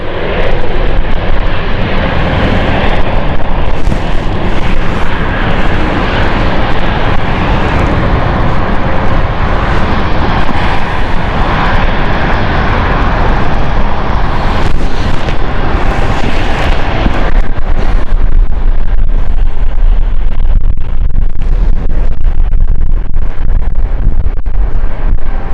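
A Swiss Airbus A220 airliner departs London City Airport bound for Geneva, its jet engines roaring loud and steady with wind buffeting the microphone, then easing slightly as it climbs away.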